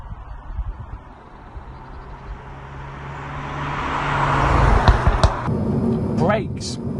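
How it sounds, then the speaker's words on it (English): A Renault Megane RS Trophy-R's engine rasps from inside the cabin while driving, swelling from a low rumble to a loud raspy peak midway, then settling with a sharp rising whine near the end. "that rasp from the engine."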